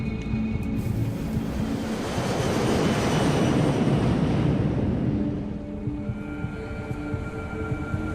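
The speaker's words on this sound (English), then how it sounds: "Despite the winter conditions, the takeoff is routine." Scandinavian Airlines Flight 751 airliner on its winter takeoff roll, a loud broadband engine roar building steadily and peaking mid-clip before easing slightly, with steady tonal whine layered through it.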